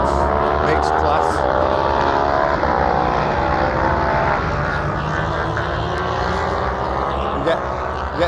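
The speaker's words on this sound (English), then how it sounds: "The bikes have just set off on another time practice." Racing motorcycles of mixed classes, including old twins and single-cylinder thumpers, set off on time practice at the Anglesey circuit, a loud continuous engine roar with layered droning tones and a voice talking over it.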